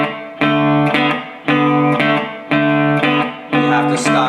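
Guitar plays a riff through an effects unit with light distortion, repeating a syncopated phrase four times with notes cut short by muting, loud and close.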